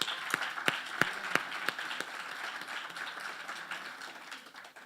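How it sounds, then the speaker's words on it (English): A small, sparse audience claps for the competition participants at a closing ceremony, with a few distinct claps early that thin out into faint, scattered clapping at a moderate distance. "I think we should all recognize and applaud the participants of today's competition"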